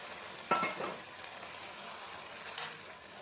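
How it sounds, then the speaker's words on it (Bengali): Boiled pasta is tipped into a hot frying pan, with a sudden clattering sizzle near the start and a softer scrape and hiss of stirring later, all fairly quiet. "এবার দিয়ে দেবো পাস্তা"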